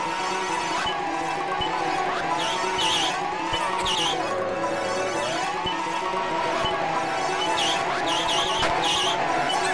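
Car engine whine and tire skids from the Amiga AGA racing game Wheels on Fire, a continuous wavering engine tone with repeated short squeal bursts over a steady loud bed, no talk.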